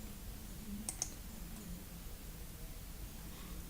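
Two quick, light computer mouse clicks land close together near the start against a quiet room hiss, followed by near silence.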